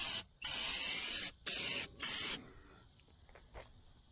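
Aerosol spray can of Rust-Oleum truck bed coating on a 1976 El Camino, heard as four close, loud hissing bursts of varying length with short breaks, then quiet with a few faint clicks and handling noises.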